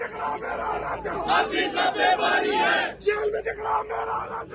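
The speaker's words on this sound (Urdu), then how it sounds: "یہ نعرے لگائے جا رہے ہیں اس ٹائم اڈیالہ کے باہر" Outside Adiala jail, a large crowd of mostly young party workers shouts political slogans in unison, loud and close. The chanted phrases come in rhythmic bursts with brief dips between lines.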